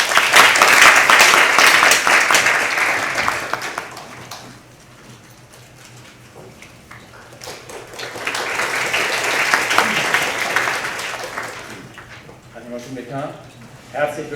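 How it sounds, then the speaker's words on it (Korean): Large conference audience applauding at an international academic symposium on history and constitutional law, a dense sustained clapping that swells, fades to a lull, then swells again before tapering. "큰 박수 부탁드립니다"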